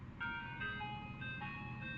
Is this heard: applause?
no